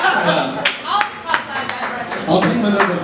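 Scattered clapping from a comedy-club audience at a live stand-up show, a handful of claps and taps under a buzz of chatter and voices rather than a full ovation.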